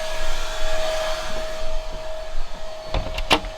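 Vacuum cleaner running steadily with a constant whine and droning hum close by, with a few sharp clatters near the end and no talking.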